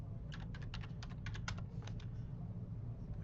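Fast, uneven clicking of keys on a computer keyboard, close and clear, in irregular bursts over a steady low background hum, with no talk.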